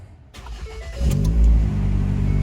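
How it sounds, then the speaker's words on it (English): A 2010 Ford Escape engine starting up close, a brief cranking whir that catches into a rising rev and then settles into a steady idle hum. "First thing we're going to do is start the vehicle."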